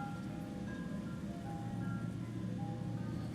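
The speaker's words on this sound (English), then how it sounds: "I hear the ice cream truck outside" Ice cream truck outside, its jingle playing as faint, distant tonal notes over a steady low rumble of background noise.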